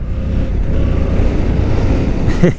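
Yamaha R7 motorcycle with the MT-07 engine running, giving a steady, loud low rumble mixed with wind buffeting, with no talk over it.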